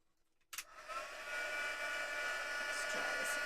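A hot air craft tool switches on after a brief quiet moment and blows steadily, drying a craft project with a loud continuous whirring hiss and no voices.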